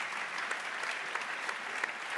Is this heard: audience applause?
yes